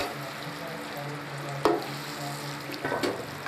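Tinda masala with dry coriander frying and being stirred in a pan: a steady close sizzle with two sharp scraping strokes of the spoon, no talking.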